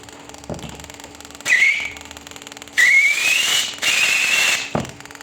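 An ABS module outlet valve closing during a brake-pedal repair test gives short hissing, whistling bursts of rising pitch, about three loud pulses with quieter pauses and a low hum between them, close up and with no talk.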